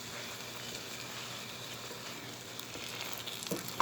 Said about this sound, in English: Mix it up so that the vegetables can cook too.